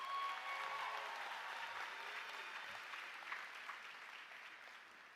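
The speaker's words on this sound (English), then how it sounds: "Please join me in giving all our honors graduates a very well-deserved round of" A commencement crowd applauds its honors graduates: a broad, distant wash of clapping from a large hall that fades gradually as it goes on.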